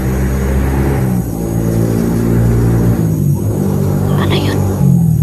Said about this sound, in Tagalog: yung ganyan mga motor, normal lang po yan na marinig lang dito